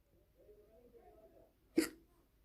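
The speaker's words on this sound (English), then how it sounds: "sorry about that hiccup" A single sharp hiccup bursts out near the end, loud and close, after a low murmur of voiced sound.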